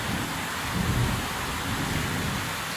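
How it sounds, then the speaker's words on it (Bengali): Heavy rain pours steadily over Dhaka streets flooded with water, a dense continuous roar with a low rumble swelling briefly in the middle, loud and unbroken with no voices. "প্রচুর পরিমাণ বৃষ্টি হইতেছে"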